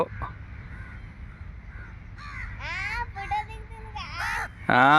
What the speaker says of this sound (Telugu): చాలా ఉన్నాయి గాయస్ కాకులు ఈ మరీనా బీచ్లో